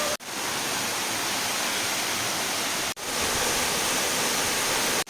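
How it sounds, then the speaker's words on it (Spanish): Maringa waterfall near Minca, Colombia, a loud, dense, continuous roar of falling water heard up close, broken only by two brief cuts. "Bueno, llegamos a la cascada Maringa."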